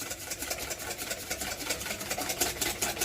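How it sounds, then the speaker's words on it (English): A whisk beating egg yolks in a bowl set over a hot pot, a fast, steady scraping rattle that stays close and continuous throughout, with no talking. "we just whisk, whisk,"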